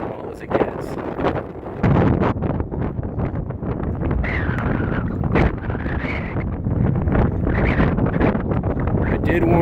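Strong, buffeting wind on a high Rocky Mountain summit in August, near Hallett Peak and Flattop Mountain, roaring in loud gusts across the microphone, with a voice talking faintly under it.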